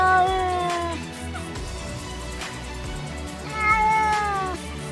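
A cat gives several meows: one at the start and a longer, rising call toward the end, set against a quiet background with a low tonal hum.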